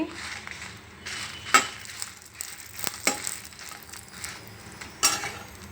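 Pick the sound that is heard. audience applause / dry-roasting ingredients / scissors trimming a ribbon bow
dry-roasting ingredients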